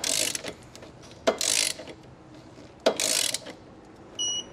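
A torque wrench tightens bolts on a hidden hitch receiver on a 2019 BMW, giving a few sharp ratcheting bursts separated by pauses, close and clear.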